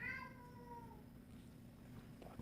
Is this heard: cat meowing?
yes